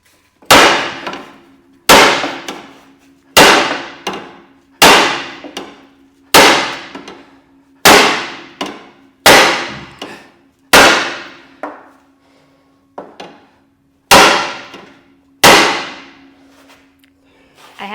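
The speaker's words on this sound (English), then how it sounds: "I'll use one hammer for alignment." A hammer strikes a metal car body panel about a dozen times at a steady pace, each blow a loud ringing clang that decays before the next.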